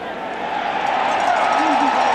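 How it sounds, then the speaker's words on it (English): A college football stadium crowd at Texas A&M in 1997, against Oklahoma State, reacts to a short first-down run with a dense, steady roar that fills the whole stretch and swells slightly toward the end, with no distinct voices standing out. "from the reaction of the crowd"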